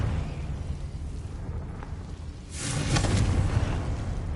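Confringo fire spell detonating in Hogwarts Legacy, a low rumbling bed that swells into a sudden bright whooshing burst partway through and then sustains as a roaring blast.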